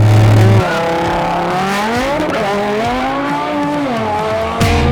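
Audi RS3 with a turbo inline five driven fast, loud engine note rising and falling through the revs, heard from inside the car with no one talking.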